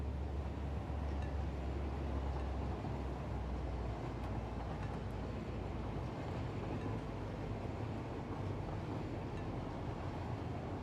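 A train in the Satisfactory factory-building game rolls by as a steady, loud low rumble with a dense mid-range wash, sustained evenly throughout and heard alone without talk.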